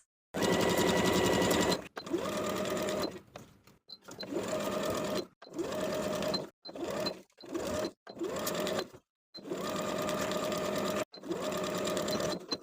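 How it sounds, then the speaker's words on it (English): A sewing machine stitching through all thicknesses of a top's facing and around the neckline, running in close, steady bursts of rapid mechanical whirring, pausing and restarting about eight times. "Sew through all thicknesses from the bottom of the facing to the top, around the neckline"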